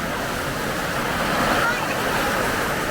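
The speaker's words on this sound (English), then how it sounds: "It's raining, Mama." Heavy rain pours down in a steady, loud, close wash of hissing water, with voices now and then over the downpour.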